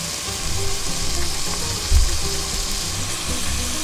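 Oil sizzles steadily in a pan on an electric stove turned up to high heat, a loud, even frying hiss with a brief soft knock partway through.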